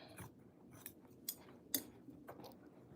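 Scissors snipping through quilt fabric while squaring up a sewing piece: several quiet, crisp cuts spaced irregularly over a few seconds, close by and without speech.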